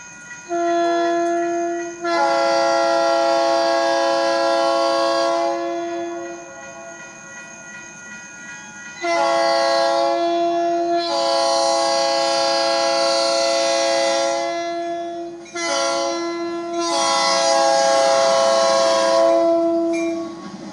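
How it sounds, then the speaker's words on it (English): A Chesapeake & Albemarle Railroad train passing close by, its loud horn sounding in several long blasts with short gaps between them over the steady rumble of the moving train. "Train's on its way."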